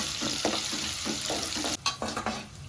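Onions sautéing in a pan for a Tamil-style carrot beetroot curry: a steady close sizzle with repeated scraping stirs, roughly twice a second, and a brief louder clatter of the spoon near the end.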